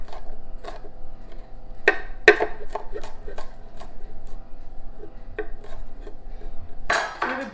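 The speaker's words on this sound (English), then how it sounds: "I'm just mixing this garlic up here" Garlic mixed with a knife or scraper on a cutting board, producing sharp, irregular taps and scrapes, close and crisp, with a steady low hum underneath.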